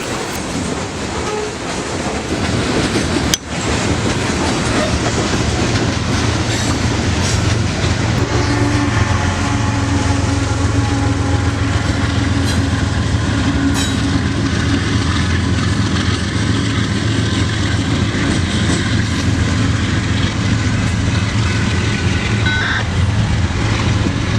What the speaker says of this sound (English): Now taking a closer look at the train with the engines passed